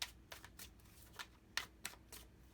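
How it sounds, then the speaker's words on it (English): A deck of tarot cards is shuffled in quick riffles, about eight crisp bursts of flicking paper close by, with quiet gaps between them. "Let's just give them a good shuffle."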